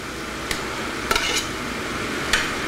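Cooked potatoes being mashed in a pot, a soft steady background broken by a few sharp clicks and knocks of the masher against the pot, with no talking.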